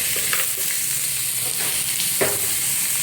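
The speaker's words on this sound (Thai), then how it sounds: "แล้วก็ผัดให้สุกค่ะ" Minced pork stir-fries with garlic in a hot pan, giving a steady loud sizzle with a few brief scraping stirs through it.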